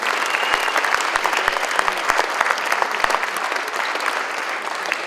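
Steady, dense audience applause fills the room at a charity gala, many hands clapping continuously at a moderate distance with no talk over it.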